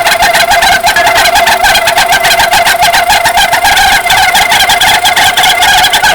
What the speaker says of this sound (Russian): Получается вот такой визг стоит.